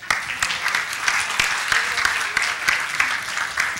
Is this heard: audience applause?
yes